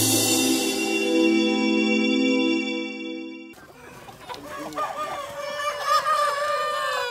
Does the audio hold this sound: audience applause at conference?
no